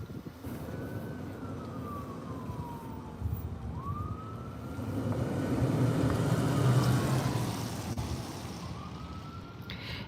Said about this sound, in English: So there's some more sirens.